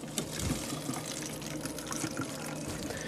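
Water pouring into a container, a soft continuous trickle and splash that runs steadily for a few seconds under faint room noise.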